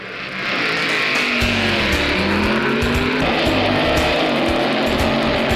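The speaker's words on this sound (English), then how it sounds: "Dick Moroso off the line with a handicap advantage." Drag racing cars at the 1960s NHRA Nationals, including a Corvette, launching off the line with a loud, rising engine roar and tire squeal, a commentator talking over the racket.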